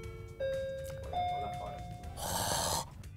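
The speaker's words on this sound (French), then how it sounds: "Maudite cloche." A bell rings twice in short tones, then a brighter burst of ringing and clatter near the end, amid a French-speaking classroom-style setting, clear and moderately loud.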